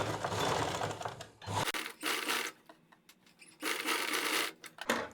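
A sewing machine stitches two soft lining-fabric strips together for a neckline with a cross patti, running in short separate bursts of a few stitches each, with brief quiet gaps between them, heard close and alone.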